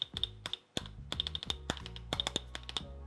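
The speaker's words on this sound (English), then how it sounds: "Listen to the spacebar." A Glorious GMMK Pro mechanical keyboard's spacebar struck repeatedly, each press a close, deep thock with a bright click, in an uneven rhythm of roughly a dozen hits with other keystrokes mixed in and no speech.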